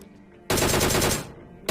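Rapid bursts of DMR rifle fire from a battle-royale video game: a loud, close volley of quick successive shots lasting under a second, a short pause, then another burst starting, with no voices over it.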